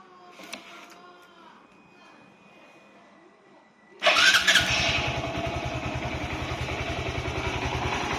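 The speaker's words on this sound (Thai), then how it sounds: "คันนี้เป็นตัว สตาร์ทมือ เดี๋ยวลอง สตาร์ทให้ดูนะครับ" A used motorcycle starts after a few seconds of quiet background, then settles into a loud, steady, close, rapidly pulsing idle.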